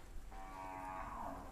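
Madura cattle give a single drawn-out moo, close and clear, with no talk over it.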